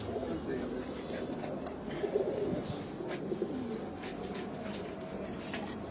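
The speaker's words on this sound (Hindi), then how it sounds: "ये कबूतर मुझे देख के बोल रहा है माशाल्लाह माशाल्लाह।" A caged pigeon coos repeatedly in soft, low, rolling calls close by, over a faint background murmur.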